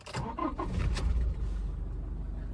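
A Toyota Innova Crysta diesel engine starting up, with a brief cranking clatter followed by a steady low idle rumble, close by and without talk.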